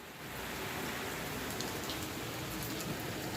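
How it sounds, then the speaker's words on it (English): Rain pours down steadily in a rainstorm, a dense continuous hiss of drops striking surfaces, close and even from start to finish with no voices. "It's raining. It's raining. It's raining."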